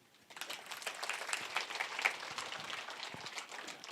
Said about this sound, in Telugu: అంజనా మేడంకి గట్టిగా చప్పట్లు కొడదాం.